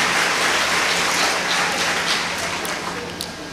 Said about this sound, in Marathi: कवी संमेलनामध्ये टाळ्या वाजवल्या तर आम्हाला कवींना खूप आनंद होतो